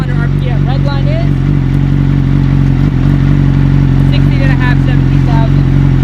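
A Yamaha R6 sport bike fitted with an M4 exhaust, idling and revving with a loud, steady engine drone up close while someone talks over it.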